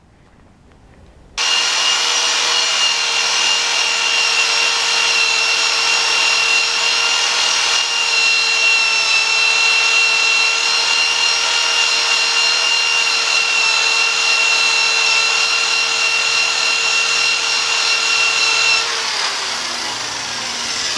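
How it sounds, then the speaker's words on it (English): A power polisher works titanium and aluminum with mag polish, a steady whirring and rubbing drone that starts abruptly, runs loud and even, then winds down near the end. "we're going to use some of that mag polish"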